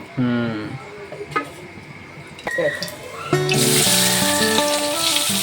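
Onion sizzling in hot oil in a pan for a Marathi-style soybean curry, a loud steady fry that swells after a few clatters of utensils, with someone talking over it.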